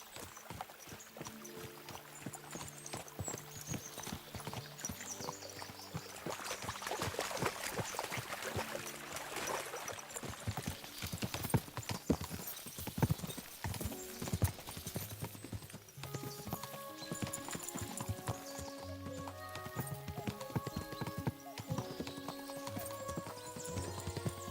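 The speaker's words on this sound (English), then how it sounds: "we'll give the horses a gallop again" Horses gallop in Kingdom Come: Deliverance II, a fast, continuous drumming of hooves over steady ambient game music, loud and close for the whole stretch.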